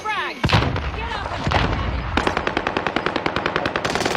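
Loud, close gunfire in a shooter video game: a few heavy single shots followed by a long rapid burst of automatic fire, with player voices under the shooting.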